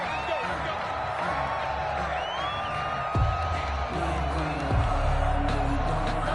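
Crowd noise from a PS4 American football video game, a steady murmur of cheering and whoops with a couple of dull thumps, heard under game commentary.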